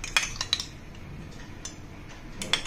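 A spoon stirs a spoonful of curd into lukewarm milk in a bowl, making a few light metallic clinks and taps against the side, spaced apart over a quiet kitchen background with no talking.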